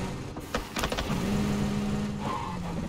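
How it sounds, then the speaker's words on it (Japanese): A buggy's engine hums in a video game, a mid-pitched motor drone that rises and holds steadily among brief clicks and knocks. "なんかバーギーの音する"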